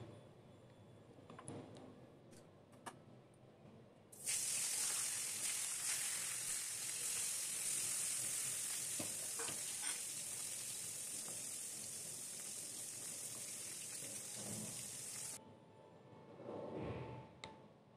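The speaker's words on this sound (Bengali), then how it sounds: "এবার আমি মাছের মুড়োটা ভেজে তুলব" Fish head frying in hot oil for moong dal, with a loud, bright, steady sizzle that starts abruptly, holds for about eleven seconds, then cuts off, with quieter kitchen clatter before and after.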